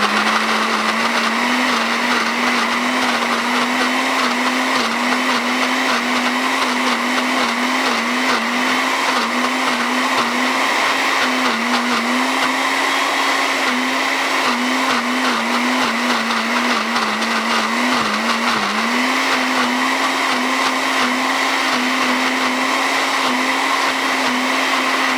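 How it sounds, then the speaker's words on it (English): A kitchen blender on its lowest setting blends hummus with a loud, steady whirring drone that holds unbroken for the whole stretch and wavers only slightly in pitch. "put the blender in, hold the top, and then put it on number 1"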